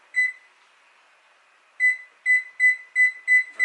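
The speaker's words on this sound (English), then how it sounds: "we're going to set our timer" A kitchen timer beeps while being set during cooking, one short beep followed by a pause and then a quick run of six evenly spaced electronic beeps, close and clear with no talk.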